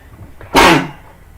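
A single sharp, loud sneeze bursts out close up after a quiet moment, then fades back to near silence.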